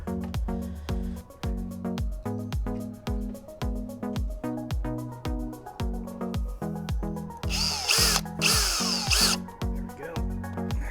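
A power drill runs in repeated short bursts, driving 1.5-inch screws into redwood for a trellis with a rhythmic whirring pulse, close and steady, with a harsher grinding stretch near the end.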